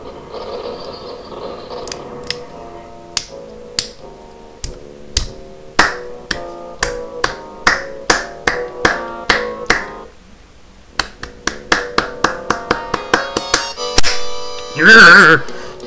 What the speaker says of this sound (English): That's me clapping to the beat.